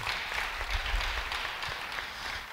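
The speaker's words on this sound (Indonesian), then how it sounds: "beri tepuk tangan bagi dia" A church congregation applauds during a sermon, a soft, even spread of many hands clapping, fairly quiet and distant, with a low rumble beneath.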